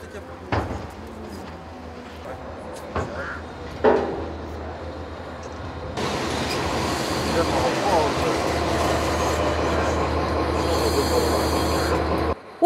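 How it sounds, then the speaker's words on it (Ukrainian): A passenger train from Budapest pulls into Mukachevo station, wheels rumbling and squealing on the rails in a loud, continuous roar that builds partway through, after a few sharp clanks and knocks, with no talk. "Потяг з Будапешта нарешті прибув на станцію Мукачево."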